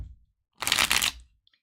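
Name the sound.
shuffling a deck of cards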